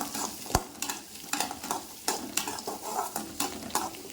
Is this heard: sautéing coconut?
yes